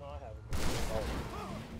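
Gunfire aimed at a police officer in a motorcycle-versus-cops video game, a sudden loud burst of shots that breaks in after a brief voice and then rings on in a dense, noisy wash.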